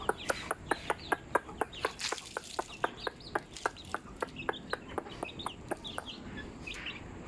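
Desi chickens, a local white breed, cluck steadily in a rapid, regular run of sharp calls with some chirping mixed in, fairly close and without talk.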